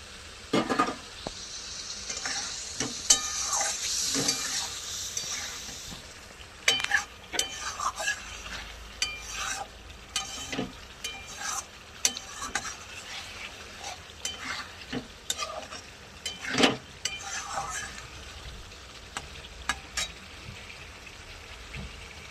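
Eggs fried in a pan with Kashmiri chili, a soft steady sizzle under scattered scrapes and clinks of a utensil against the pan, close and fairly quiet.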